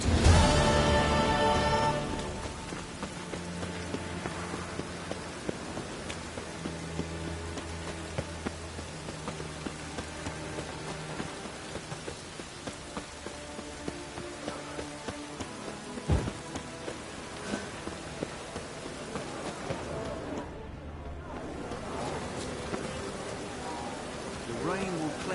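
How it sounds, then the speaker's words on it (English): Steady rain hiss in The Witcher 3: Wild Hunt fills the scene, soft and continuous, with scattered faint drops and occasional muffled sounds in the background. "The rain will cleanse the city streets."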